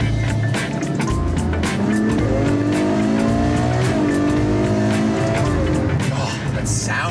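A Ferrari's engine accelerates hard from close by, with tones sweeping upward through repeated gear changes over a constant roar, and a voice speaks over it.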